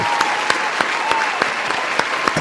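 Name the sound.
round of applause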